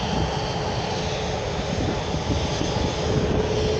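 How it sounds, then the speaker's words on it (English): A Singapore Airlines Airbus A350-900 jet at Manchester Airport gives a steady, loud, broadband engine roar that holds evenly throughout with no talk over it. "the Singapore Airlines Airbus A350-900"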